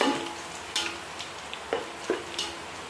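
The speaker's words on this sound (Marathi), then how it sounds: "मग लसूण आणि कढीपत्ता लाल होत चाललेला आहे" Garlic and curry leaves fry in hot oil in a pan for a spicy poha chivda, a soft steady sizzle broken by a few sharp clicks of stirring, close and quiet with no talk.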